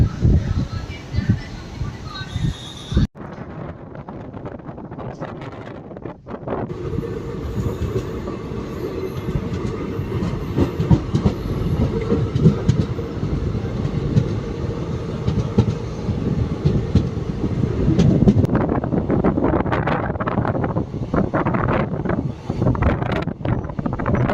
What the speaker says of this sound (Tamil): ஸோ ஆரல்வாய்மொழியிலேருந்து பார்த்தீங்கன்னா நம்ம ட்ரெயின் கிளம்பிடுச்சு.